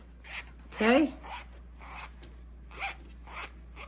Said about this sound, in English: now I'm going to separate all this zipper right here all the way to the end